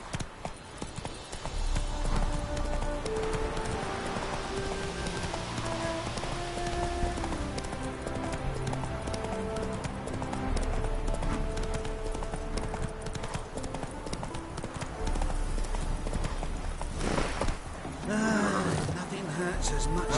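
Roach the horse gallops in The Witcher 3 video game with a quick, steady clip-clop of hooves for about twenty seconds. Rain-like patter and voices run underneath.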